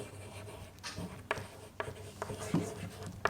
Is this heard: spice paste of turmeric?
no